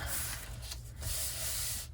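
Spray can misting an envelope in a journal: two soft, breathy bursts of hiss separated by a short pause, close by and fairly quiet.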